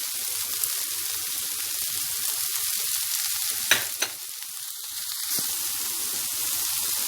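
Tomato paste sautés with meat and spices in a pan, giving a steady bright sizzle up close, broken by a couple of quick stirring scrapes midway.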